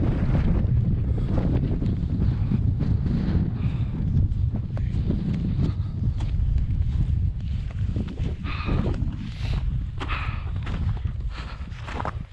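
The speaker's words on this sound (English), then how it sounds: "Windy descent, also check." Strong winter wind buffets the microphone during a descent from the high ridge of Bighorn Peak, a loud, continuous roar with gusty swells that never drops away.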